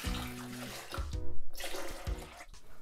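Water is poured into the reservoir of a coffee machine, a brief splashing rush over faint background tones.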